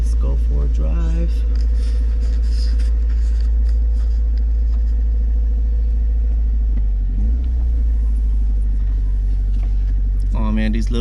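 A Toyota AE86 engine rumbles steadily as the car drives along on 14-inch wheels, with a low drone throughout and a voice talking briefly near the start and end.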